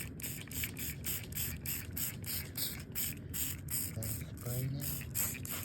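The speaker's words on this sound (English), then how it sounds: "Yeah, it's spraying out." Steady rhythmic pulses of a pump sprayer misting watermelon oil onto carpet, hissing in even bursts close by, with a faint voice briefly audible toward the end.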